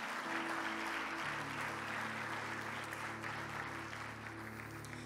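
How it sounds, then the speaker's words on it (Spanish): Steady, dense applause from a church congregation runs throughout, loud and continuous, with a low sustained musical tone beneath it. "Dale fuertes aplausos a Jesús."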